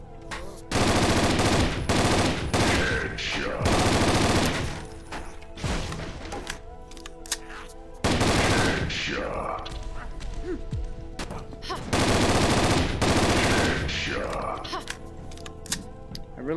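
Automatic rifle fire in a Source engine first-person shooter, long loud sustained bursts of rapid shots with brief pauses between, dense and close with game effects underneath.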